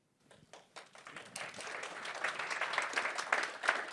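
A conference audience at a leisure industry review breaks into applause that starts with a few scattered claps, then builds into steady, fairly faint clapping from a room of people.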